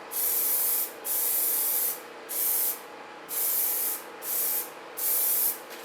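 Black Plasti Dip aerosol coating sprayed onto cosplay parts in six steady hissing bursts of roughly half a second to a second each, separated by brief pauses, close and loud.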